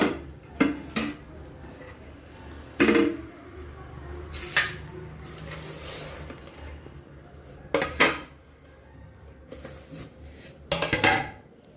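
Metal pots and a pressure cooker clank and bump in a home kitchen, with several sharp separate knocks spread across the stretch over a faint background wash, the clatter of dishes being rinsed and set aside.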